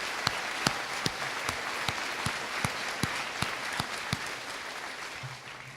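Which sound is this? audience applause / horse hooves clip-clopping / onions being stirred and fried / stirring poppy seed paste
audience applause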